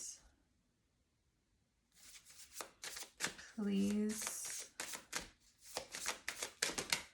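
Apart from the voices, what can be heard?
shuffling cards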